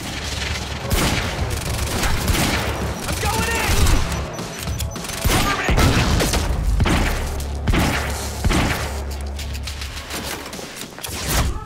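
Heavy pistol fire in the shooter video game Quantum Break, repeated loud booming shots and thuds in rapid irregular bursts amid dense game action, with a voice speaking over parts of it.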